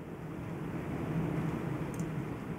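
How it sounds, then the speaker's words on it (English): Heavy rain pours steadily outside in the Alien: Isolation video game, a continuous dense low hiss and rumble with no clear drops, holding at an even moderate level throughout. "I don't know if you can hear that, but it's really raining outside."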